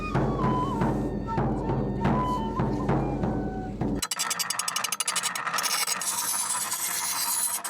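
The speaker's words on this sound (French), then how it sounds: "à Cala, on préfère les ciseaux, les mêmes que l'on utilisait jadis. De longs et lourds ciseaux d'acier" Long, heavy steel scissors shear vicuña wool in Cala, giving repeated rasping, rubbing cuts in a steady rhythm, with a brief shift to a brighter, scratchier texture midway and no talk.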